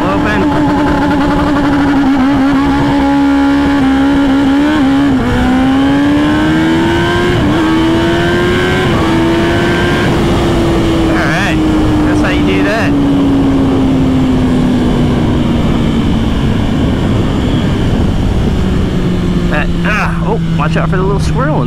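2022 Kawasaki ZX-10R sport motorcycle launching with the throttle open, a loud close engine roar rising through revs and gear changes, with heavy wind noise throughout.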